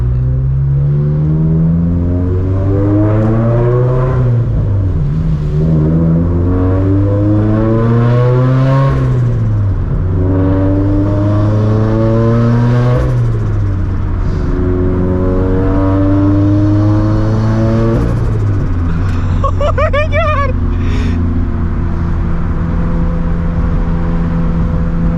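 A turbocharged project car engine revs hard and loud through repeated rising acceleration sweeps, with gear changes and downshifts dropping the pitch between pulls, heard from inside the car with no talking.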